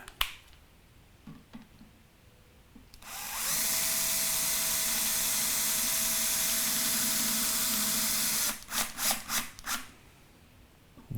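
A bass guitar string is wound onto a tuning post, likely with a powered string winder, giving a steady buzzing whir for about five seconds, followed by a few short clicks and taps.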